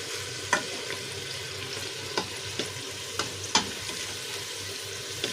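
Onion frying in a pan, a steady sizzle with occasional sharp taps and scrapes of a spatula at irregular intervals, close and moderately loud.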